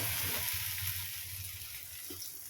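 Bread slices for double ka meetha fry in hot oil, giving a faint, steady bubbling sizzle with light hissing and a soft low rumble beneath it. No one speaks.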